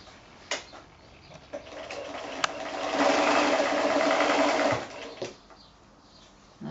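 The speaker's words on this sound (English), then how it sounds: "And now I'll go back to the machine and I'll just quickly stitch those cord ends." A sewing machine quickly stitches cord ends on a pocket bag made from quilting fat quarters, with a quarter-inch seam. It hums steadily for about two seconds between faint clicks and handling noises in a quiet room.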